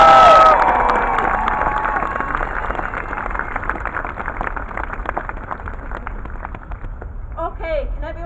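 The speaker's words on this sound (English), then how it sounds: "So if we could give her a massive round of applause." Crowd at an anti-nuclear rally in Glasgow claps and cheers loudly at first, then settles into a sustained round of applause that gradually fades, with shouts and voices scattered through it.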